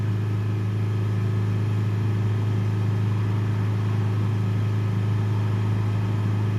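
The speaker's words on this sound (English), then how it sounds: "If we accelerate it up 3000 RPM, we have 310." A Range Rover Evoque 2.0 diesel engine with a restricted diesel particulate filter, held at raised revs around 3000 RPM, a steady loud droning hum with a strong low tone and no change in pitch.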